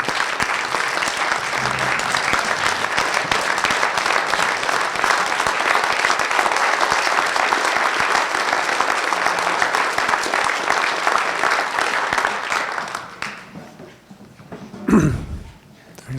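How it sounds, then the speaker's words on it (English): Sustained audience applause at a town meeting, dense and even for about twelve seconds before tapering off, followed by a brief low thump and a few scattered sounds. "So how about a round of applause for David?"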